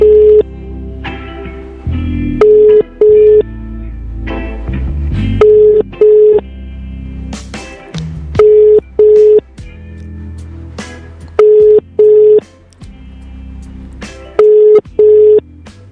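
A phone call rings unanswered, with repeated ringback tones in evenly spaced pairs recurring over a long stretch, loud and close, broken by brief bursts of other noise between the rings.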